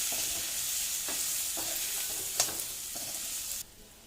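Drumstick pieces being stirred with ground masala in a hot pan for an Andhra-style fry, a steady sizzle broken by a few soft spoon scrapes and one sharper clack, close by, with the frying cutting off near the end.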